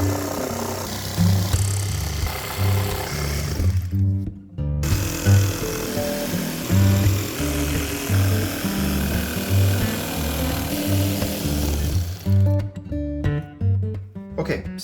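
A loud power saw whines and buzzes in repeated bursts as it cuts wood, with brief pauses between passes and the motor droning close by.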